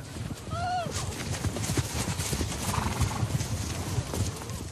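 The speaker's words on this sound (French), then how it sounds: "Ah, c'est beau les chevaux quand même, Alex." Horses walking, hooves clip-clopping in a steady, moderately near rhythm, with a brief whinny early on and people talking in the background.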